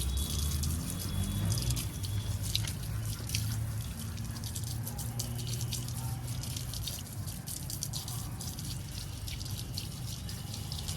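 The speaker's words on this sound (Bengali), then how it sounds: "দেখুন এই পাইপ দিয়ে ভালো করে জল দিয়ে ধুয়ে নিচ্ছি" Water from a hose pipe splashes and patters steadily over dahlia tubers as they are washed clean of soil, a close, even rush of spray lasting throughout.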